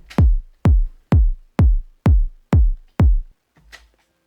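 A looped kick drum sample in Ableton thumps seven times at a steady, even pulse, each hit deep and punchy with a quick decay, alone and up close, followed by a faint short sound.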